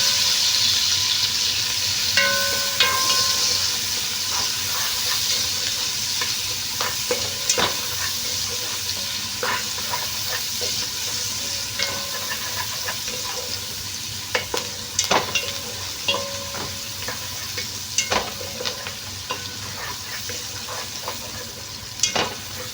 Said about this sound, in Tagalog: Ngayon igigisa ko ng ating sibuyas at saka bawang.